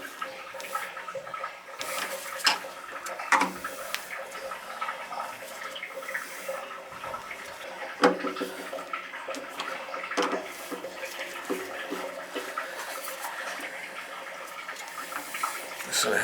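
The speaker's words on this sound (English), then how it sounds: "We'll fill it with water, and we'll turn the power on." Water runs steadily into a 40 gallon electric water heater tank being refilled, a continuous rushing and trickling fill with a few louder splashes and knocks, close by, with no talking.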